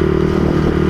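A motorcycle with its exhaust silencer fallen off runs with a loud, raw, rattly exhaust note, steady and close throughout with no talking.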